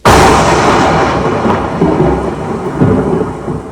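A thunder sound effect from a storm in a theatre stage play, opening with a sharp loud crack that rolls into a long rumble with further lower booms, no voices over it.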